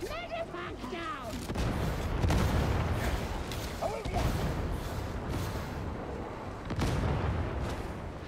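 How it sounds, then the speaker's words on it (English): Grenade blasts and heavy combat in the Warhammer 40,000 Darktide video game: dense booming gunfire and explosions, with a louder burst near the middle, under a constant wash of battle noise and shouting voices. "Throw a grenade!"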